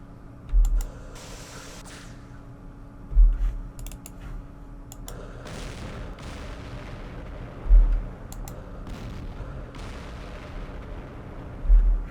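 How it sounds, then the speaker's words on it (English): Gatling gun fire in the Campaign Series Middle East war game comes as bursts of crackling shots, broken up by heavy low thumps every few seconds, with no talk over it. "The Gatling sounds awesome."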